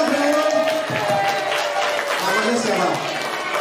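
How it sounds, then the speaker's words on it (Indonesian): Classroom students clapping together during a school lesson on positive culture, a loud, busy burst of hands mixed with chatter and voices from the group. "Tepuk tangan dulu."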